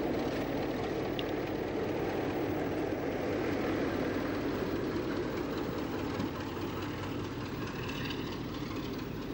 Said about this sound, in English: The train slows down for Cray Station, some 58 miles from Albert Quay.